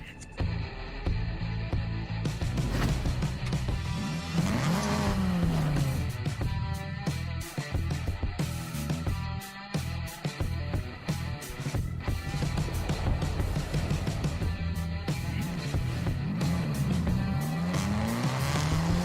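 A stock, unmodified Volkswagen GTI in a racing video game, its engine droning loudly and rising and falling through gear changes, with repeated tire squeals and skids throughout and no talking.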